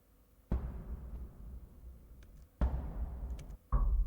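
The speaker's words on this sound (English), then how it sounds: "When you hit any metal surface with it, you get this kind of soft impact sound." Soft ball about basketball size striking metal surfaces in a ship's bosun store, three dull, muffled thumps each followed by a low reverberant rumble, no voices.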